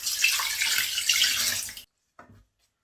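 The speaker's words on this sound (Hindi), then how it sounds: "तो अब हम इसमें ठंडा पानी ऐड करते हैं।" Cold water poured onto freshly made chhena to wash it while preparing kacha golla, a steady close splashing rush that stops abruptly, followed by a brief small splash.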